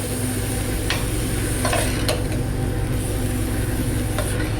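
Rinsed sauerkraut and onions sauté in a pan with a loud, steady, close sizzle, broken by a few sharp scrapes and taps of a utensil.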